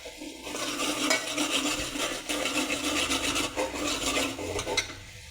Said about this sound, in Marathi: सोनेरी रंगावर एकदम कांदा भाजून घ्यायचा मध्यम गॅसवर